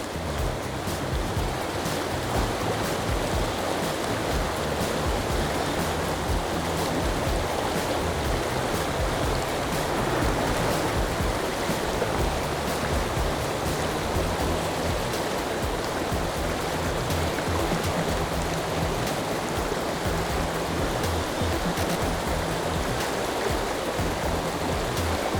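White water rushes through a shallow pocketwater river, a constant dense hiss and roar close by with no breaks and no talking.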